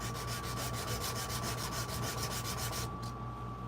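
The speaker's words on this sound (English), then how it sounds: "this hand sanding part of knife making is probably my most favoriteest part of it all" A knife blade is sanded by hand in a shop, producing a rapid, rhythmic back-and-forth rasp of abrasive on steel, close and continuous over a steady background hum.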